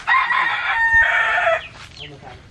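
A wild jungle fowl (labuyo) on a farm gives one loud, close crow in two drawn-out parts, followed by faint clucking.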